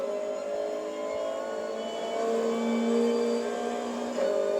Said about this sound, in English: the 86 that I'm driving, the Toyota 86, isn't that fast in a straight line